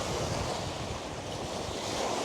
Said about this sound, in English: there are actually waves in this thing because it's so big that it acts like a little ocean